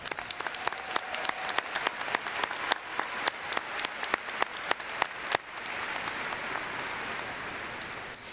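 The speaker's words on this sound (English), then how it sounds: "Please join me in giving the faculty a well-deserved round of applause." A commencement audience gives the faculty a sustained round of applause, dense clapping with sharp individual claps standing out near the microphone, fading into a broader wash of distant applause.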